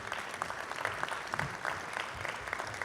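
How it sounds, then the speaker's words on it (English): A crowd at a public safety awards ceremony claps in sustained, dense applause, steady and even throughout, filling the whole stretch without any voices standing out. "I'd like a round of applause for Lieutenant Sean Coleman"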